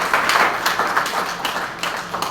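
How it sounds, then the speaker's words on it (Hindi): An audience at a National Union of Journalists meeting in Lucknow claps in honour of an honoree, with dense, loud and fairly even applause throughout. "आप लोग राज बिहारी जी के सम्मान में तालियां बजाएं"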